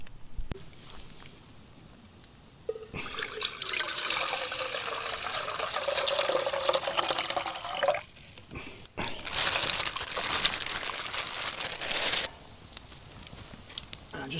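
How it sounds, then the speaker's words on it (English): Water pours into a cooking pot at a cold forest campsite, two steady rushing splashes of several seconds each separated by a brief pause, close and clear against quiet surroundings. "I'm going to put some water in there, just boil up some vegetables"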